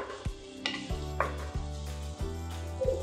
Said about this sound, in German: Zwiebel einschwitzen, Kartoffeln und Sellerie in den Topf,